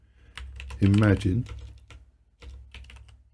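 Quick bursts of keystrokes on a computer keyboard at a desk, clicking close and clear in two spells with a pause between, while someone talks over the typing.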